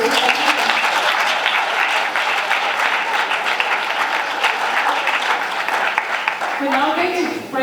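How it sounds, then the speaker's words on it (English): Sustained audience applause in a conference hall for a professor after a talk on social cohesion in South Africa, steady dense clapping throughout with some voices and cheers rising near the end. "I'm going to ask you to give the professor a big round of applause."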